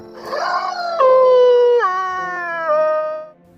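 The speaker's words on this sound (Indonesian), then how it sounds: "Lantas dia pun melolong persis seperti suara yang didengar oleh Lucas sebelumnya." El Perro, a dog-like creature in a zombie film, gives a single long wolf-like howl with sliding, stepped pitch drops, loud and close, then trails off.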